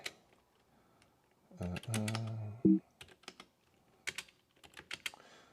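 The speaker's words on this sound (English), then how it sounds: "Sorry about my loud keyboard. I got into mechanical keyboards." Sharp clacking keystrokes from a mechanical keyboard in irregular bursts, close by, with a short hum-like vocal sound in the middle.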